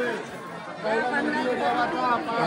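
Dense crowd chatter in the busy market area of the Jejuri temple, with many overlapping voices close around and a continuous, steady hubbub.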